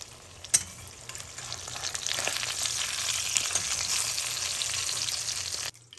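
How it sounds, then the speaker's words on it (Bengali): Hilsa fish frying in hot oil in a pan gives a bright, crackling sizzle that builds after a sharp knock and holds steady before cutting off abruptly near the end. "মাছটা আমার ভাজা হয়ে গিয়েছে"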